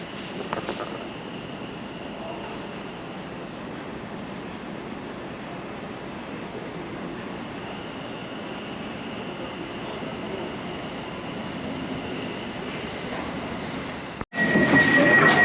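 A London Overground train standing at a station platform gives a steady, fairly loud rumble and hum throughout, then a brief sharp cut and a louder burst of noise near the end.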